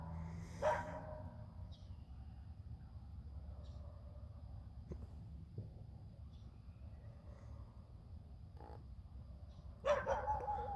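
A dog in North Carolina that charges when told to go home gives a few faint, distant barks or yips against a low steady outdoor hum, with one louder bark near the start and another near the end.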